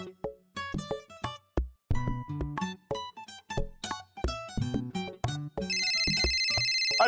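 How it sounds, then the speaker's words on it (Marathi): Mobile phone ringtone playing as a melodic tune of bright repeated notes, with a brief gap midway and a shrill sustained electronic tone near the end, loud and alone without talk. "अरे बघ परत डॉलीबाईंचा फोन आला यार"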